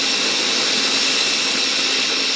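An OXO Brew conical burr coffee grinder grinds beans with a steady, loud, high whirring hum, close and continuous with no talking.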